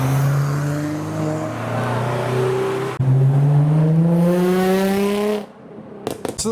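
Mazda MX-5 and Ford Fiesta at a car meet, loud engine notes rising through two revving pulls with a gear change between, then fading abruptly into a quieter scene with sharp clicks.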